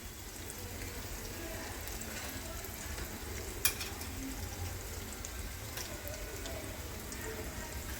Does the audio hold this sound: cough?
no